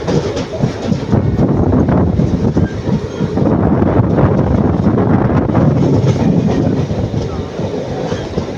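A passenger train leaving Thrissur station in Kerala keeps up a steady loud rumble with rail clatter and gusts of wind across the microphone, heard continuously from on board.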